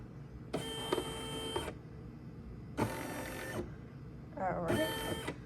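A Brother SE400 embroidery machine traces the outline of a design, moving its hoop with three separate, evenly spaced whirring motor runs, each lasting about a second, at moderate volume over a low background hum.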